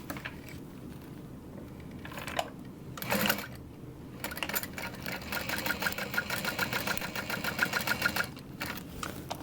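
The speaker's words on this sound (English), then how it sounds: "We're going to top stitch at 1/8 of an inch." Sewing machine topstitching an eighth of an inch from the edge of a Linda sling bag, a close, steady mechanical whir with rhythmic needle ticks, pausing briefly between bursts of stitching.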